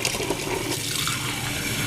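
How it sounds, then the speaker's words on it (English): A cup of water poured into a pot of beef broth for Salisbury steak, a steady close rush of splashing liquid filling the whole short moment. "in here we have beef broth, and I'm going to add to it a cup of water"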